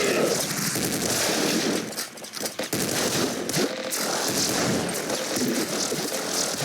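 Continuous rapid gunfire from the video game Nuclear Throne, loud and dense with bursts of shots and blasts that barely pause, briefly dipping midway before resuming.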